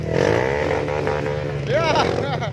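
Racing motorcycle engine revving hard as it throttles up a climb at an Aceh race, a steady loud drone with rising pitch sweeps near the end, heard under continuous excited commentary.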